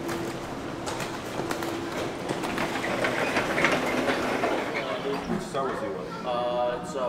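A train rolls and rattles with clicking wheels, slowing as brakes screech and squeal near the end; a voice speaks over it.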